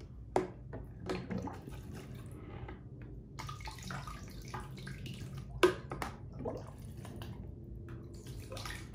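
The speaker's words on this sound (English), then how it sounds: "we're gonna go ahead and rinse the top off." Water runs over the top of a Bluelab pH pen as it is rinsed, a soft continuous splashing with drips and small clatters, close and moderately quiet.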